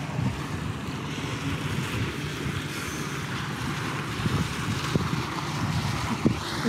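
A boat moving on open water, with rushing wind and waves buffeting the microphone and a low engine rumble underneath.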